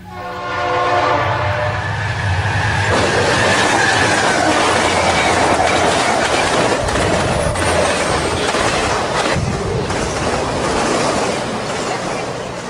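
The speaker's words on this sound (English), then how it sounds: "we caught a hotshot intermodal with a pair of red and silver war bonnets in the lead" In Garry's Mod, a Santa Fe hotshot intermodal freight led by two red and silver warbonnet locomotives passes close and loud, with a horn note at the start, then a continuous roar of rolling wheels and rattling cars.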